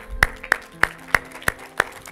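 A few hands clap slowly at a school gathering for young people, about six distinct, evenly spaced claps, close and sparse rather than a full ovation.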